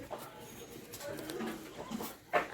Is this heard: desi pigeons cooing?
yes